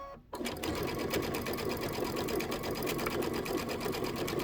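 A sewing machine stitches two quilt fabric pieces together with a quarter-inch seam, starting with a brief pause and then running as a steady, close, continuous whirring chatter of the needle for several seconds.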